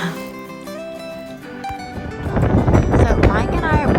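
Strong gusty wind on a farm buffets the microphone with a loud, rough roar that builds and stays heavy. A voice talks briefly before the gusts take over.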